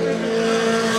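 Formula 4 race cars race in the 2017 Formula 4 Southeast Asia Championship, Race 1, a brief, steady, loud, high engine whine with layered tones and no talking.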